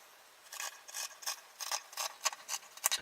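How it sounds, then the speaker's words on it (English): Scissors snip through the bottom seam of a cotton T-shirt in a steady series of quiet, crisp cuts, close up and regularly spaced. "I'm going to cut off this bottom seam."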